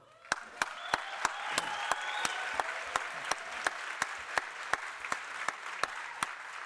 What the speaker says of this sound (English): I think Brian even deserves a huge round of applause